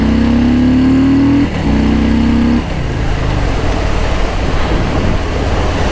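A 2021 Harley-Davidson Fat Boy motorcycle accelerating up a slightly uphill freeway on-ramp, its loud close engine note rising in pitch through a gear, a brief shift dip, then a steady roaring pull with strong wind rush.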